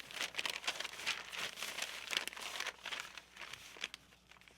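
Sheets of paper are folded by hand for a homemade planner, giving close, soft crinkling and rustling in irregular bursts with no talking.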